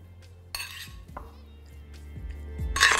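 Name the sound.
mixing chicken marinade in a bowl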